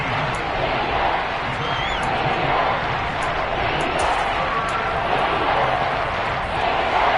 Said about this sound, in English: This red zone is where the Seahawk crowd really makes it tough for an offense to communicate